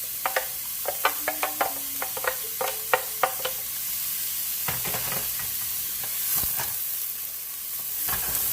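Small diced onion frying in a little vegetable oil in a pan, a soft steady sizzle broken by a rapid series of scraping stirs and knocks, close and fairly quiet.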